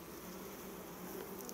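Honeybees humming steadily around an open winter beehive, a soft continuous close buzz with no talk over it.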